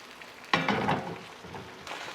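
Tapioca rice crepe batter hits a hot pan with a sudden bright sizzle that crackles and slowly fades, followed by a second, softer burst of frying near the end.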